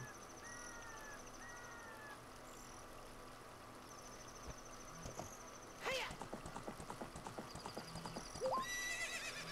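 A horse in the Zelda Ocarina of Time video game gallops with rhythmic clip-clop hoofbeats that quicken and grow louder, with a whinny and game chimes over a quiet ambient backdrop.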